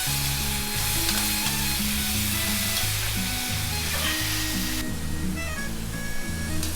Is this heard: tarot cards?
no